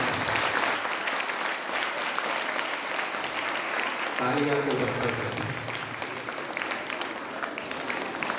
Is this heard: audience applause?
yes